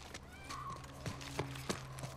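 Horse in a video game, snorting and neighing with clip-clopping hooves, a few sharp hoof knocks spaced across the moment, near and clear with faint background tones.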